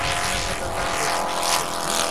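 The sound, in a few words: engine of a model aircraft flying at an airshow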